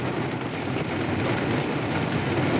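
Steady rain falling outside a parked car, a dense, even hiss of drops on the roof and glass, loud and continuous with no voices.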